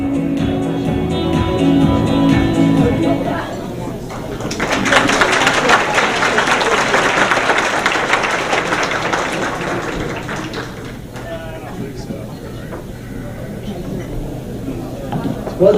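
An audience at a county legends event applauds for an honoree, a swell of clapping that rises after a few seconds, holds steady and then fades, with voices talking over parts of it.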